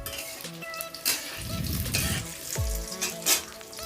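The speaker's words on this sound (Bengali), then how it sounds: "এরপর কড়াইয়ের মধ্যে আলুগুলোকে কেটে কেটে দিয়ে দিলাম।" Cut potatoes dropped into hot oil in a wok set off a sudden loud sizzle that settles into steady frying crackle, with a metal spatula stirring and scraping now and then; no voices.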